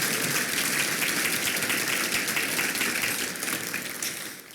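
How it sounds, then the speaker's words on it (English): Sustained applause from an audience at a regional chamber awards event, a dense, steady wash of many hands clapping that fades slightly toward the end. "Can we please have a round of applause for all of our sponsors?"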